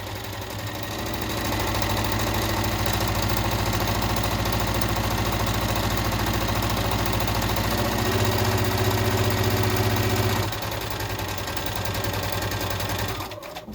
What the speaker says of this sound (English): You're going to sew that seam down.